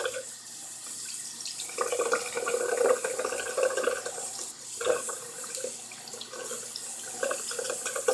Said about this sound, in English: And I'm just massaging it and squeezing it under the water.